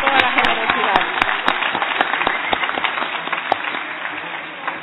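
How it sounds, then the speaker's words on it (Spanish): Sustained applause from members of a legislative assembly, continuous dense clapping with scattered sharper claps standing out, fairly loud and steady throughout with a few voices mixed in. "pedirles esta mañana, de todo corazón, un voto de aplauso para Esmeraldas"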